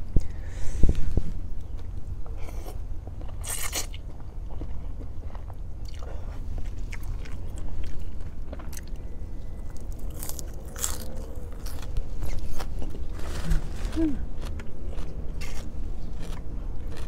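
Someone chews Thai khanom jeen noodles with spicy papaya salad in close, steady, wet crunching bites. The chewing runs for a long stretch with a few sharper crunches and no speech.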